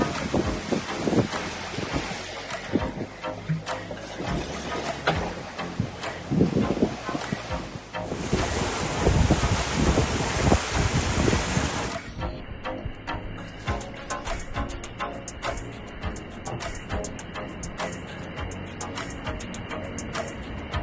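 Ocean waves surge and rush behind a sailboat on a transatlantic crossing in big seas, a continuous loud wash of water and wind noise with no talking.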